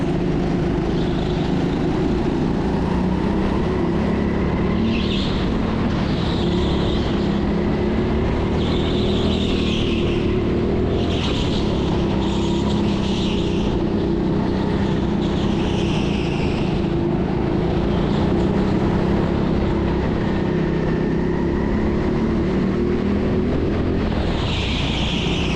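Go-kart engines droning steadily during a public karting session at a TeamSport indoor track, several buzzing motors overlapping loud and close with rising and falling pitch, no talking.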